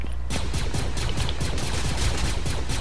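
Star Wars blasters fire in a shooter video game, a dense rapid barrage of loud gunshot bursts that keeps going without pause.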